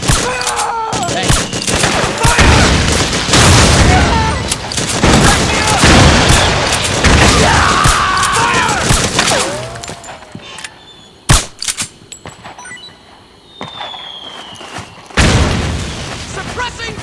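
Metal Gear Solid 4 combat erupts with dense gunfire and booming explosions, loud and continuous at first, then thinning to sharp isolated shots and blasts. Soldiers shout over the battle.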